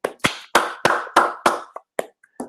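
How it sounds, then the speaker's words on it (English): A small group of people clapping for Christian in a round of applause, heard as about nine separate, uneven, fairly loud claps spread over a couple of seconds, with short gaps between them. "Everybody give Christian a round of applause"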